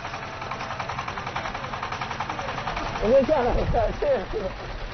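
A tractor engine drones steadily through a bumpy ride, rumbling beneath ongoing talk, with jolts and swells in the noise near the end.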